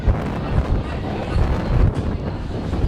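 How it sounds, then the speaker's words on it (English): Strong wind buffets an outdoor rugby league field during an under-17 grand final, a loud steady rumbling roar with gusty swells battering the microphone throughout. "That proves exactly how windy it is."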